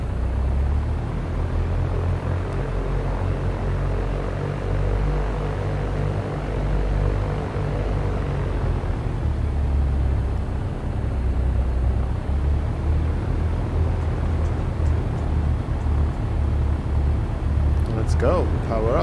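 A small propeller airplane, a Cessna 172 in a flight simulator game, taxis onto the runway with a steady droning engine hum that shifts partway through, while a voice speaks over it.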